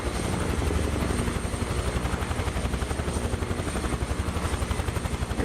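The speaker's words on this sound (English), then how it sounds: "This is probably my favorite helicopter that they have available, besides the Chinook." Bell Huey helicopter in Microsoft Flight Simulator 2024, flying over Australia's Gold Coast, with a steady, loud rotor thump and engine whine that continues throughout, alone and without talk.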